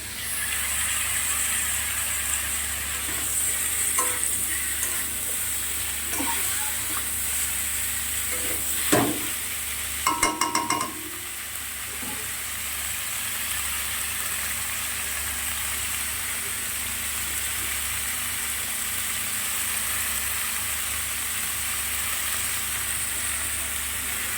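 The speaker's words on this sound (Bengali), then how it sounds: "দেখো আলুটা কিন্তু খুব ভালো করে ভাজা হয়ে গেছে।" Potatoes fry in a pan, a continuous bright sizzle and hiss holding steady throughout, with a short burst of clatter and scraping near the middle; close and even, no voices.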